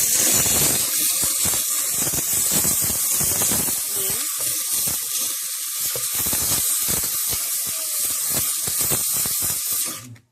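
Steady broadband hiss of a McCulloch MC1385 canister steam cleaner spraying continuously, with intermittent clicks and rattles from the nozzle mechanism, fairly loud and close.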